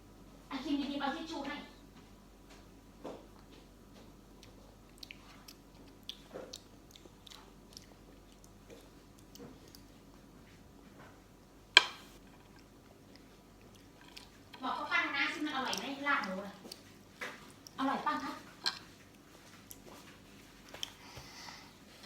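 Close, wet chewing and biting of pork larb with mint leaves, soft and intermittent, with people talking in bursts between mouthfuls.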